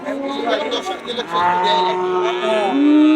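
A young Holstein Friesian bull moos loudly and close by, one long drawn-out low call that swells toward the end.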